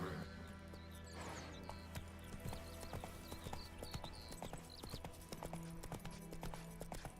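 Roach, the horse in the video game Witcher 3, gallops in a steady, close rhythm of hoofbeats over a game soundtrack, with occasional snorts.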